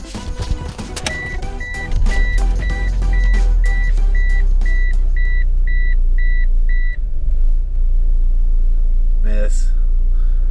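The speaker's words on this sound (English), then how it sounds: "now it's really wanting to miss" A turbocharged AWD Eagle Talon engine runs with a steady low rumble and an uneven, stumbling beat as it misfires, while a repeating electronic beep chimes in the foreground for several seconds before stopping, with a brief speaking voice near the end.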